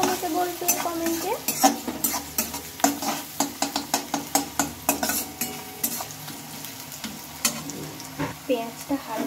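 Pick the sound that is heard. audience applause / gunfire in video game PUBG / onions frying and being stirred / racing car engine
onions frying and being stirred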